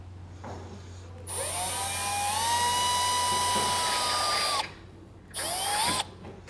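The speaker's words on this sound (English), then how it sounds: "I'm going to start with a small bit for a pilot hole." A drill spins up and bores a small pilot hole into a metal pontoon boat ladder, a loud steady whine lasting a few seconds that cuts off, then a short second burst.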